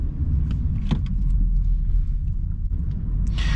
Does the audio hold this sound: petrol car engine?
yes